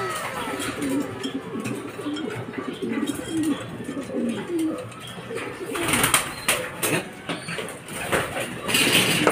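Racing pigeons arrive at a loft during a fun race, with repeated low cooing close by and a burst of flapping and clattering partway through as birds land.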